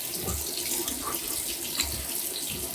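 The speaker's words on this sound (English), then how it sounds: "so now I'm just gonna do a quick rinse" A bathroom tap runs water into a sink for a quick face rinse after a shave, a steady close splashing stream throughout.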